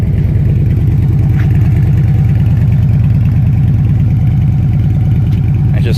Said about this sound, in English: It's a cold start. Just gonna let it warm up here for a couple seconds before I start cracking the throttle a little bit.